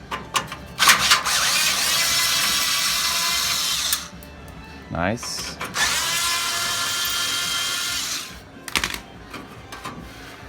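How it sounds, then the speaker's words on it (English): A power drill whines at high speed, drilling out an old stripped screw on a 1969 Plymouth Roadrunner's front end in two long bursts with a short pause between them. There are clicks in the gaps and a brief spoken remark. "we're gonna have to drill that out"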